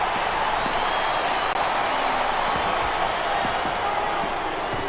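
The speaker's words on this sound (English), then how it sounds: "Wow, listen to that chant, Taz." Loud arena crowd noise from the WWE SmackDown vs. Raw 2007 video game, a dense steady roar with chanting and scattered applause throughout, at a Kane vs. The Undertaker Buried Alive match.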